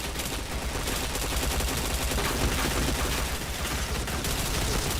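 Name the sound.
gunfire in a shooter video game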